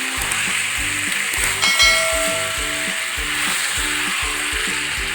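Chicken pieces fry and sizzle steadily in a pan for a bawarchi-style chicken kosha, with a loud, close, continuous crackle and occasional stirring scrapes, no voices.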